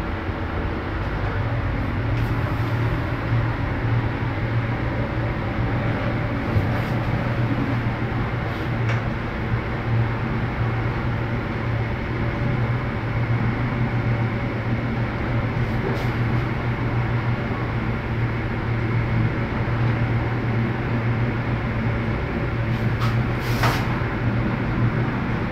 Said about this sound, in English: I'm now letting the lift auto call back to 1 and let's see if the safety brake happens again.